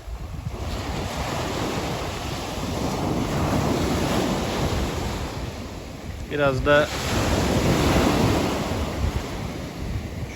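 Sea waves roll and crash continuously onto a Trabzon shoreline under gusty wind buffeting the microphone, with a brief spoken phrase midway.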